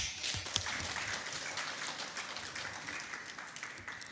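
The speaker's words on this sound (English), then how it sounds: "Let's give her a big round of applause." An audience at a festival opening applauds a guest speaker, a steady, fairly faint wash of clapping that holds evenly throughout, heard from a distance with no voices standing out.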